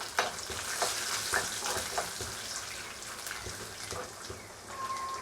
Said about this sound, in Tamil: வெங்காயம் போட்டு நல்லா வதக்கிக்கணும்